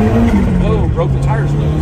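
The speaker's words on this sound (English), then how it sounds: "Give it a little throttle." A 1990 Lotus Esprit SE engine pulls under light throttle in first gear on sticky tires, a loud steady drone rising slightly in pitch, with someone talking over it throughout.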